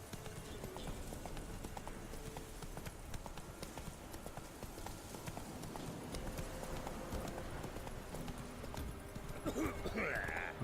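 Roach the horse trotting in The Witcher 3 while visiting Velen, with steady, faint hoof clip-clops running throughout beneath a low background bed and a brief higher sound near the end.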